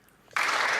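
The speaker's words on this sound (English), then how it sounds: "She applauded herself." Sudden burst of applause in the House of Commons during question period, a dense, loud wash of clapping that starts abruptly after a quiet moment and holds steady to the end.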